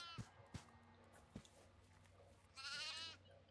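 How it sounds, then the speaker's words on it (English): Faint goat bleats in the video game Devour VR, a short wavering cry near the end, after a few soft knocks and clicks over a low steady hum. "There should be a goat here. There is."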